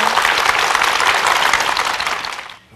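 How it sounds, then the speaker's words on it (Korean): A studio audience at a televised lecture gives a lecturer dense, steady applause that holds at full strength for over two seconds, then drops off sharply at the end. "특강 힘찬 박수로 청해 듣겠습니다."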